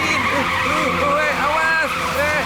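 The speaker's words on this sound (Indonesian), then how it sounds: "Aku tidak bisa mengerem. Licin." Cartoon car skidding on a wet, slippery road: tire screeches sweep up and down repeatedly, loud and close, over a steady engine hum and background music, with a character's voice heard alongside.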